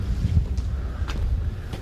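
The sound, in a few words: wind blowing through an alley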